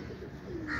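Pigeons coo softly in the early morning around 5 a.m. as they are let out, a short low murmuring coo rising slightly at the end, close and unaccompanied by talk.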